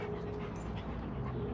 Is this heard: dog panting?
yes